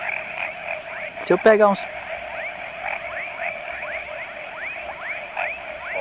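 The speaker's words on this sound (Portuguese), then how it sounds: "Tem umas rãs que espantam os peixes tudo, ó." Frogs croak steadily and rhythmically beside a lagoon at night during a fishing trip, a dense repeating chorus throughout, with someone speaking briefly over it midway.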